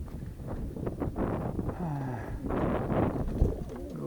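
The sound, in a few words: pigeons cooing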